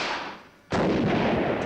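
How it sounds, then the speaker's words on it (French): An AMX-13 tank's 105 mm cannon fires once: a sudden, loud, close blast after a quieter lead-in, followed by a long rumbling reverberation. "le canon de 105 mm, tire les mêmes projectiles que le canon du char AMX-30"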